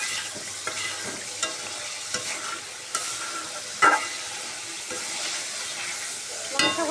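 Marinated beef pieces sizzle in hot oil while being stirred, a steady frying hiss punctuated by occasional soft knocks of the spoon against the pot.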